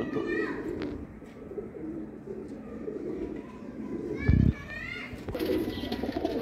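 Royal Teddy pigeons coo in a low, steady murmur at a pigeon sale, with someone talking over them and children's voices nearby.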